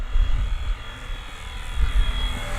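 A Fly Wing UH-1 Huey RC helicopter flies outdoors in wind, its rotor and motor making a steady low whir with soft surges, audible throughout with no talking.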